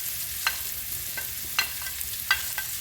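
Saltfish stirred in a curry pot of Jamaican curry choco, giving a few sharp spoon scrapes and knocks spaced apart over a soft, steady frying hiss.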